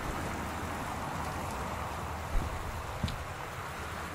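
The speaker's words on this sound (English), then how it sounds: "You can see the rain is streaming down the windows." Steady rain streams against house windows in the video game Gone Home, a constant soft hiss that fills the scene with two faint thumps partway through.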